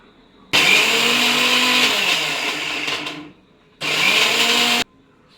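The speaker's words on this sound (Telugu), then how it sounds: "ఇప్పుడు మిక్సీ చేసి" A mixer grinder whirs loudly, blending banana, dates and water in two bursts: a long run of about three seconds that winds down, then a shorter one, with no talk.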